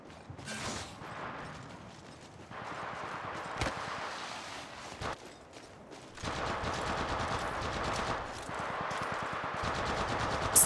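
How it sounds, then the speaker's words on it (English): Automatic weapon fire rattles in fast, continuous bursts during a match of the mobile game Apex Legends Mobile, dense and steady over a busy game mix, with a couple of sharper single cracks. "Taking fire!"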